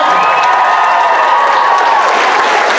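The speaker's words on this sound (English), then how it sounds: "can we have a big round of applause for all of our Junk Kouture dresses? Give him a big cheer." Audience at a school transition-year variety show in Enniscorthy applauds and cheers, a loud, dense wash of clapping with whoops and shouts running continuously throughout.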